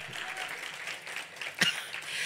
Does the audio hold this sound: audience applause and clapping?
yes